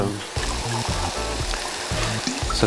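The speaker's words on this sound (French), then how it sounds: "je vais pouvoir déglacer avec du vin blanc" About 10 centilitres of white wine poured into a hot pan to deglaze, a gurgling splash with sizzling hiss and a few low thumps, fairly close and steady.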